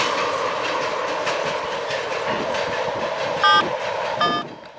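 A CP freight train, A30, only seven cars long, rolls past close by with a steady loud rumble and clatter of wheels, a couple of brief metallic squeals near the end before the sound drops away.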